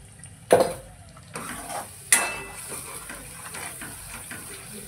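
Tomato puree is stirred and sautéed in a pan for a Haryana-style paneer curry, with two sharp clanks of a spoon against the pan and soft, close scraping and faint sizzling between them.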